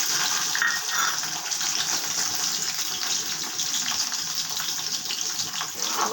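Garlic frying in hot oil in a wok gives a continuous, even hiss and crackle at moderate volume, steady throughout with no speech.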